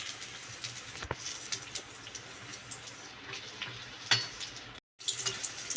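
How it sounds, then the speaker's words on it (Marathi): Green chillies stuffed with spiced potato deep-frying in oil over medium gas, a soft uneven bubbling sizzle with occasional sharper pops and spatters, one brief drop to silence near the end. "मीडियम गॅसवरती आपण तळत आहोत. जसे आपण भजी तळतो त्याच पद्धतीने आपण हे तळायचं आहे."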